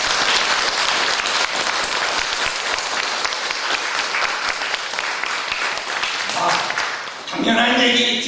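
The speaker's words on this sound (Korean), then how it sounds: "힘찬 박수를 보내드립시다" A church congregation gives a loud, sustained round of hearty applause that fills the room, fading at the end as someone begins speaking over it.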